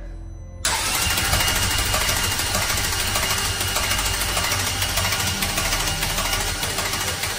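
Ferrari F430 engine cranking over on the starter with the spark plugs removed, a loud, continuous mechanical churning and rattling that kicks in abruptly after a brief quiet start and runs without firing.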